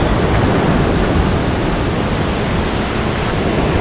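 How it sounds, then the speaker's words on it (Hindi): A fast-flowing mountain river rushes below an iron footbridge on the road from Rishikesh to Badrinath in Uttarakhand, a loud, steady broadband roar that stays constant throughout with no voices. "आपको थोड़ी सी आवाज़ सुनाने के लिए इस पहाड़ी नदी की"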